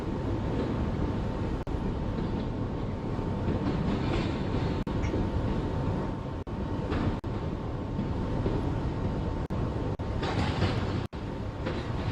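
A Brooklyn-bound 5 subway train on the 2 line running in the video game Roblox, a steady loud rumble and rushing roar throughout with faint periodic clicks, heard alone with no talk.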